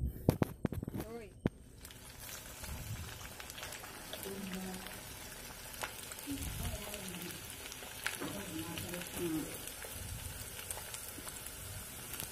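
Chopped garlic, green chilli and ginger drop into hot oil for a lime pickle and fry with a soft, steady crackling sizzle, a few sharp clatters at the start, while a person talks over it.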